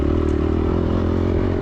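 Dirt bike engine revving hard while riding over sand whoops, a loud, close, continuous buzzing drone with steady harmonic pitch and gritty clatter, no talk.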